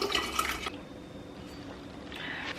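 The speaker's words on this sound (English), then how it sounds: "I'm gonna take a fresh bottle of water and pour it into my Stanley" Fresh bottled water pours into a Stanley cup, a short burst of liquid splashing and filling up close, easing to a quieter trickle before a brief rise near the end.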